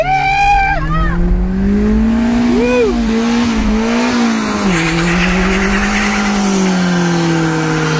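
A car burns rubber with loud, sustained tire squeal and a revving engine whose pitch rises and dips, close and continuous throughout.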